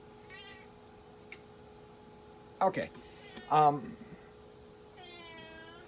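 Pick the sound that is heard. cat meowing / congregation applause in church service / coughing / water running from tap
cat meowing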